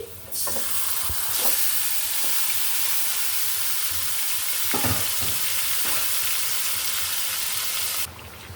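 Beef and chopped onion sizzling and frying steadily in a pan, with occasional stirring clatters and spatters over a continuous hiss, close and fairly loud throughout.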